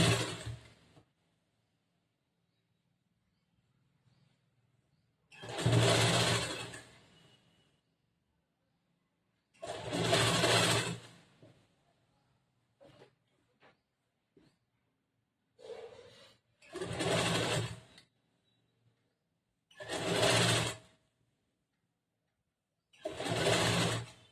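A sewing machine stitching a back-hooks blouse runs in six short bursts of a couple of seconds each, separated by quiet gaps with faint handling noises, close and clear.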